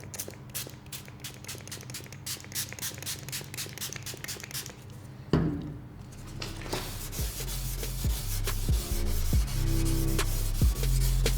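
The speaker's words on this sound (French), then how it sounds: "On va en mettre sur tout le phare et on va poncer." Lubricated abrasive pad sanding a Renault Clio headlight lens, a steady scratchy rubbing that runs back and forth in quick strokes, then gives way to a denser, continuous grinding with a low hum underneath.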